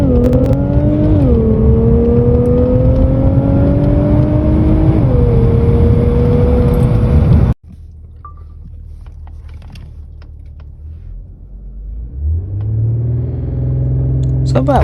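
An Infiniti Q60 Red Sport accelerating hard from 0 to 60, its engine loud and close with climbing pitch through gear shifts before cutting off abruptly, then a quieter idle rumble that swells again.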